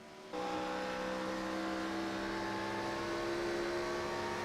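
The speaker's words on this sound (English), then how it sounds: "Seems to be about full throttle down the back straightaway." A race car engine roars steadily at full throttle down the back straightaway, a sustained high-pitched drone that starts abruptly and holds loud without pause.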